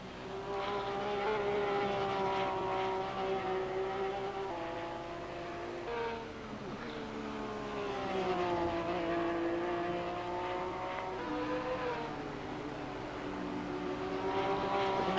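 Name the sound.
Porsche race car engine at Brands Hatch, from a racing video game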